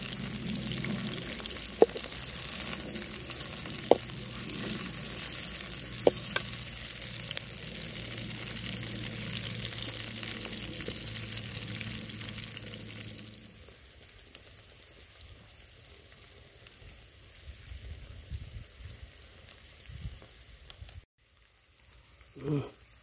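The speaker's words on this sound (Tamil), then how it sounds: "கடுகு நல்லா பொரிஞ்சிச்சு, வெங்காயம் போட்டுக்கலாம்." Onions frying in oil with popped mustard seeds in a village-style Vellore brinjal kuzhambu, a loud steady sizzle with a few sharp pops for about thirteen seconds, then fading to a quieter, muffled background.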